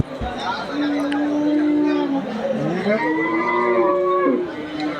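Cattle low loudly at a crowded livestock market, with long drawn-out moos rising and falling close by, one after another, over a background of distant crowd chatter.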